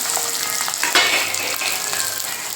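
Quarter kilo of garlic cloves tipped into hot oil, crackling in a dense, steady sizzle with a sharper burst as they land, close and loud, no voices.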